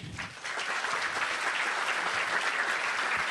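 An audience breaks into warm, steady applause for an economist and former central bank president being introduced at an economics event; the clapping swells quickly and stays dense and even.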